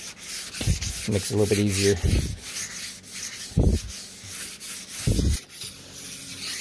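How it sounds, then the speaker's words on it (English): Wet sanding the hood of a 1969 Corvette C3 with 400-grit paper, a steady close scraping rub running throughout, broken by short bursts of voiced talk. "I'm just gonna finish wet sanding 400"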